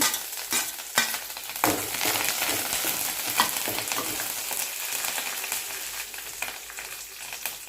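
Mustard seeds, cumin, dried chillies and curry leaves fry in hot oil and are stirred, giving a loud, dense crackling sizzle with sharp pops and spoon scrapes early on, then a steady hiss.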